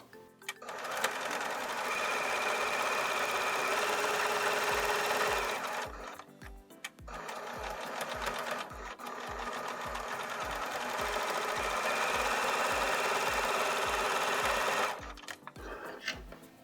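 Sewing machine stitching a fabric face mask, a loud steady whirring drone with a quick rhythmic needle clatter, running in two long passes with a short pause between.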